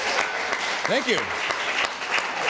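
An audience gives a round of applause for a host of CBC's Points North, with lively clapping that continues under a voice speaking briefly.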